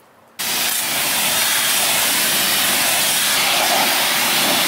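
Meguiar's wheel cleaner sprays onto car wheels in a loud, close, steady hiss that starts abruptly and runs without a break, with no voices.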